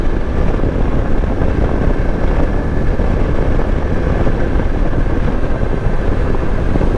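Yezdi Adventure motorcycle cruising on a highway, a steady loud broadband roar of engine and wind rush filling the whole stretch without pause, close to the microphone, no voices.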